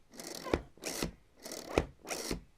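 A Rutlands R70 1/2-inch router being plunged down, its spring giving four coarse, grinding rasps in an even rhythm, close and fairly quiet with no talking.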